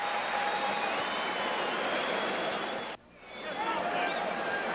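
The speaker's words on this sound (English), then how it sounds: "and the crowd comes alive" A basketball arena crowd at a Celtics–Knicks game roars in a dense, sustained wash of cheering, briefly dipping before surging back, with a commentator talking over it.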